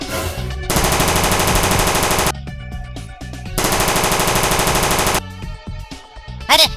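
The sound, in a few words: gunshots in an animated cartoon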